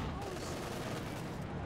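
Dense, continuous battle gunfire from Company of Heroes 2, a steady wash of overlapping shots and rumbling fire with no clear gaps, moderately loud throughout.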